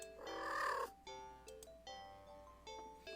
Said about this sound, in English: The cat dashes over to you, immediately climbing into your lap.